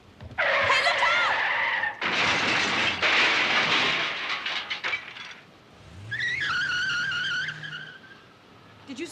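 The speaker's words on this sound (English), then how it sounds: "He smashed the whole side of the car." A car skids with a long screech, then smashes into the side of a parked car, a loud crunch followed by a second tire squeal and rumbling engine.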